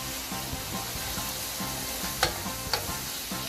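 Spices being mixed into vegetables in a frying pan, a continuous sizzle under rhythmic scraping and stirring strokes, close by, with two sharper clanks near the end.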